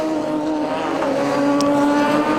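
The number 84 Spire race car, driven by Rob Gardner in a 750 Motor Club race at Donington, roars past on track, its engine a loud sustained high drone at steady revs, close and with no one talking.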